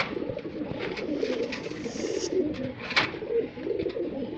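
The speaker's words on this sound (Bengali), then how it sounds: "এই দেখেন এটা আরেকটা কবুতর, এটার নাম হচ্ছে হুইটটা, এটাও ভালো মানের কবুতর" A pigeon coos in low, repeated throaty murmurs, close and fairly clear, with faint rustling of other birds in the loft behind.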